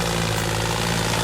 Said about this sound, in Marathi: आपला ट्रॅक्टर आहे न्यू हॉलंड 36